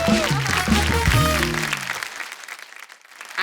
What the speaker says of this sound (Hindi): कपिल शर्मा शो की फैमिली के एक बार जोरदार ताली हो जाए